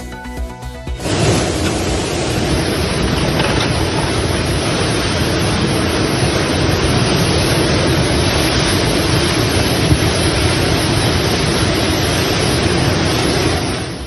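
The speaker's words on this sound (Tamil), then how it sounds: "பெருங்குடியில் குடிநீர் குழாய் உடைந்து வெளியேறிய நீர்" Water gushing from a burst drinking water pipe in Perungudi, a loud continuous hissing rush that starts abruptly after a brief moment and holds steady to the end.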